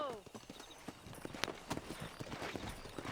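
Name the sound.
horse hooves in Red Dead Redemption video game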